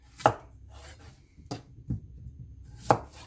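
Sharp knife chops through vegetables on a cutting board, four or five spaced strikes at an uneven pace, close and clear with no talking.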